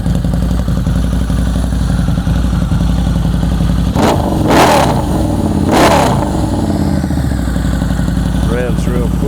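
A Harley-Davidson V-Rod Muscle motorcycle idles with a deep, steady throb through its header, then is revved sharply twice, each rev rising loud and falling back to idle, close up.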